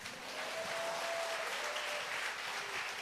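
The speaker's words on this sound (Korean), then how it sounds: "박수 치세요." A church congregation at a Sunday worship service claps together, a dense, even wash of applause sustained for a few seconds at moderate distance.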